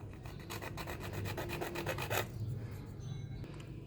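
A hand saw cuts a piece of plastic pipe, giving close, rhythmic rasping strokes in quick succession that stop abruptly partway through, leaving faint handling noise.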